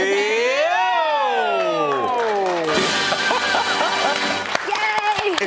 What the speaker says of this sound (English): If only I got a round of applause when I was cooking at home.